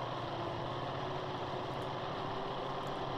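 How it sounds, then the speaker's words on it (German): A truck engine labouring at low revs in the off-road driving game Spintires, heard as a steady, dense rumbling drone that holds without a break, loud and close, with no talking. "Motor unterdreht, seid ihr dumm?"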